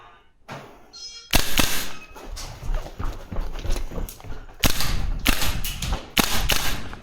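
A VFC URGI V3 gas blowback airsoft rifle firing in tight indoor spaces, sharp loud cracks in quick bursts and single shots, with a mechanical click and clatter before the shooting starts.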